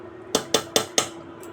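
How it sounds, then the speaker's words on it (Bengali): Four evenly spaced metallic clinks ring out as a spoon strikes a pot while masala is stirred into mutton for mutton do pyaza, each tap bright and close, with a faint hum underneath. "এই যে পুরো মশলাটা দিয়ে এবার ভালো করে নেড়ে নেব।"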